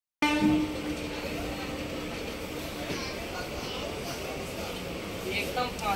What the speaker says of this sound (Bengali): ট্রেন ছেড়ে দিয়েছে পুরো 7:05, একদম কারেক্ট সময় ছেড়েছে ট্রেন